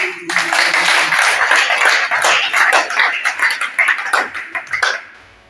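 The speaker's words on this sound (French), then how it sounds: "Si on peut applaudir pour nous." Dense, steady clapping from an audience at a conference debate on voter registration in Congo Central, loud and close for about five seconds, thinning into scattered separate claps before stopping.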